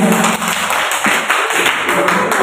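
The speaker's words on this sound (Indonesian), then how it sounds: "Tepuk tangan dulu buat kalian." Classroom applause from students during a group presentation lesson, a short burst of scattered clapping with a few sharp taps, fairly close and loud, fading after about two seconds.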